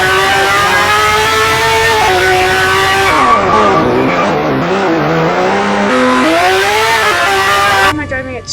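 A Corvette engine in the video game Car Driving Ultimate revs continuously while drifting, pitch sweeping down and back up with tire squeal, loud and steady throughout.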